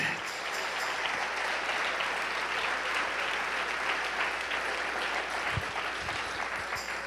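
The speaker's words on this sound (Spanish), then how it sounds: "Dale ese aplauso al Rey." A church congregation gives sustained applause to the King during a pastor's sermon, a dense, even wash of clapping that holds steady the whole time with no speech.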